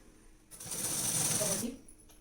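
Domestic sewing machine stitching the seam of a blouse, running in one steady burst of about a second alone, then stopping.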